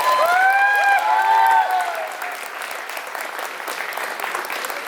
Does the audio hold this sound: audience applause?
yes